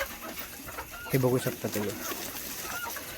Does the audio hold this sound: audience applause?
no